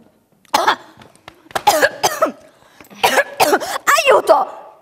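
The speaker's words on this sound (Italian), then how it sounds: "È solo un colpo di tosse." Harsh coughing and throat clearing from a performer in a stage comedy, several close, loud bursts after a brief quiet start.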